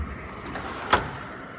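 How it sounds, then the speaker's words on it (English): A Mac Tools add-on drawer on a triple-bank tech series tool chest slides with a soft rolling rush, ending in one sharp metallic click or stop, quiet and close. "Another add-on drawer."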